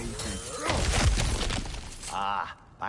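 Ground smashing apart in God of War Ragnarok, a loud crashing shatter with a burst of breaking debris near the middle, then settling rubble and a brief voice toward the end.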